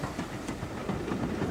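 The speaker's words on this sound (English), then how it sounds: "Number 80039 runs into Wadebridge to pick up a considerable number of passengers." A BR Standard Class 4 tank steam locomotive, No. 80039, runs into Wadebridge station with its train: a steady, moderately faint rolling rumble with soft rail clatter and no voices.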